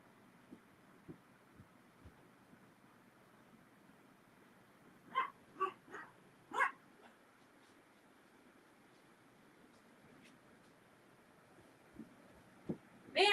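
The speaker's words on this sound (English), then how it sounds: "I'm getting barked at in my own house when I come up like I'm an intruder." A dog inside a house barks at someone coming upstairs: a short cluster of three or four sharp, fairly quiet barks midway, then a couple of isolated yips near the end over a low room hum.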